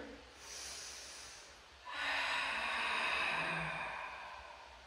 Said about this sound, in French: Inspire. Et souffle.